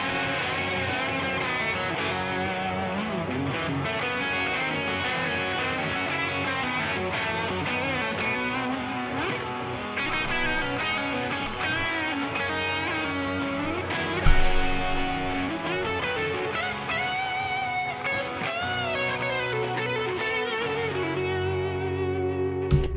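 Driven Blocks synth patch run through tape delay, chorus, compression and a high EQ boost, playing a sustained chordal country-rock part at steady loudness for over twenty seconds, with echoing repeats and a brief accent midway.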